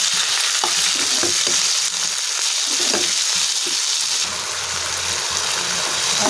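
Tomato pieces and turmeric stirred in a hot frying pan for an egg roast curry, a steady loud sizzle with scraping spoon strokes and soft wet clicks throughout, no voices.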